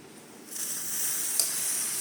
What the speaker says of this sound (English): it is also steaming